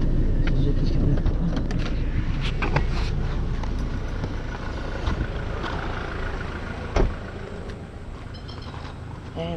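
A Suzuki car creeps through slow, first-and-second-gear holiday freeway traffic, its steady low road and engine rumble filling the background while voices talk over it.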